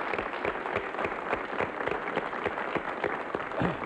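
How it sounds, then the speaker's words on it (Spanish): Studio audience applause on a Spanish television talk show, a steady wash of many hands clapping at moderate volume, continuous for a few seconds with no voices on top. "vamos a darle un aplauso muy fuerte, muy cariñoso"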